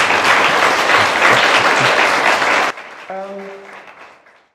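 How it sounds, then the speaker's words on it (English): An audience at a university talk gives a warm round of applause, dense and loud, that stops abruptly and leaves a brief soft tone fading out. "Mokoena with a warm round of an applause"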